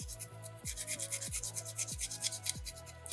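Carving and rasping a small soapstone bear figure to deepen its grooves, repeated close scraping strokes in a regular rhythm, each ending with a short knock, no voices.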